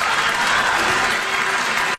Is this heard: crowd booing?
yes